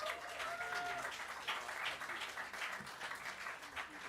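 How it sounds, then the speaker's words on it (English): Applause at a music academy masterclass, a faint, distant crowd clapping steadily throughout, with a brief tonal note near the start and some murmur beneath. "give him another round of applause"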